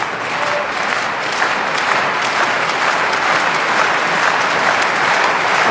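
A packed arena crowd at a table tennis men's singles final claps loudly and continuously, a dense, even wash of applause with no pauses, sounding close and full.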